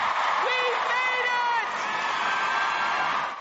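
Thousands of fans scream and cheer for Oprah at the Sydney Opera House, a loud sustained crowd roar with high whoops rising above it that eases slightly toward the end.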